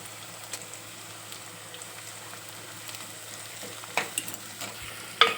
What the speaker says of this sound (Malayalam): ഞാൻ കറിവേപ്പില ഇട്ട് കൊടുക്കാം